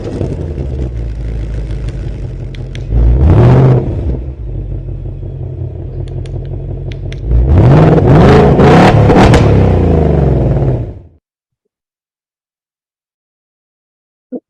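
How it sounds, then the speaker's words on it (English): A car engine revs from a remote key fob, two loud roaring bursts over a steady close idle, then the engine cuts off into silence and a faint click follows. "you can sit there and rev your engine with the car's remote"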